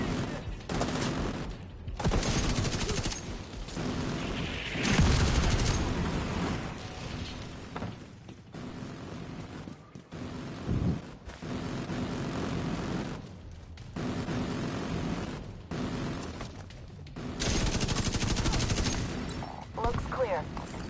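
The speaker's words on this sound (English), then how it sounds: "Damn mortars, dude." Gunfire and mortar explosions in the shooter video game The Division 2, repeated bursts of loud weapon fire and booming impacts with brief lulls between volleys, at times under game voices and talk.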